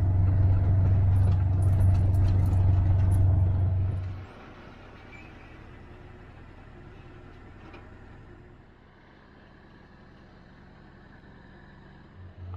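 A Tiger Cat log loader working in a logging clear cut, its diesel engine a loud low rumble that drops off sharply after a few seconds to a quieter, steady idle in the background.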